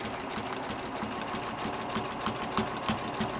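A sewing machine runs a satin stitch around a machine appliqué with a fast, even needle chatter and light mechanical knocking that continues the whole time, close up and heard alone.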